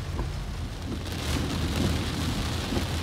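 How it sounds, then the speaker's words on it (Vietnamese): Heavy rain pours down outdoors during a typhoon on Phu Quoc, a dense, steady hiss with low rumbling underneath. "hiện tại là ở ngoài trời mưa rất là lớn mưa nặng hạt lắm"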